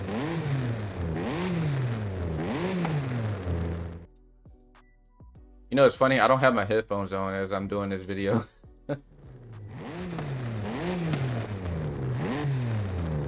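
A Forza Horizon 5 car engine revs loudly, up and down, at the start and again at the end, with someone talking through a quieter stretch in the middle.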